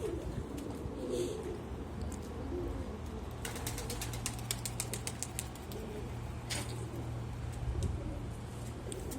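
Pigeons and their chicks coo in a loft, a steady low murmur of cooing running throughout, with occasional soft wing flaps and a constant low background hum.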